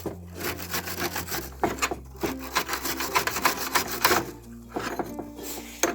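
Metal part being scrubbed clean before arc welding, a rapid, rhythmic scratchy rubbing with uneven strokes, close and fairly loud, continuing throughout.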